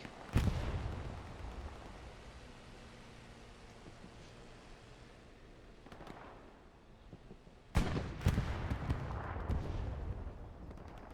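Two heavy blasts boom in Hell Let Loose, likely a satchel charge going off on an artillery piece or AT gun: one near the start and a louder one later, each followed by rumbling debris and distant battle noise.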